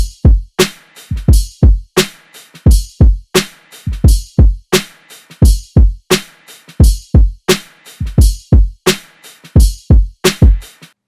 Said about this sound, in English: so I like did drums first and made them sound like this here.